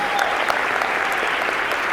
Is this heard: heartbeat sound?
no